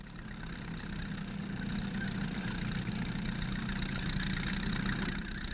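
A tractor hauling two wire haulage ropes for a high-voltage power line drones steadily at mid distance, its engine a constant low rumble without breaks or speech.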